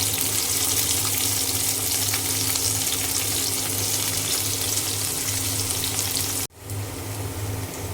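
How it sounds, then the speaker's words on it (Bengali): Green chillies, chopped garlic and onion fry in a pan for a cauliflower and potato bhaji, giving a loud, steady, close sizzle that cuts out briefly near the end and then resumes. "তারপরে দিয়ে দিলাম হচ্ছে কাঁচামরিচ, রসুন কুচি আর পেঁয়াজ।"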